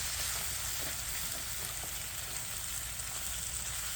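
Pork stir fry with soy and brown sugar sizzling and being stirred in a hot pan, a steady loud frying hiss throughout with faint scraping underneath.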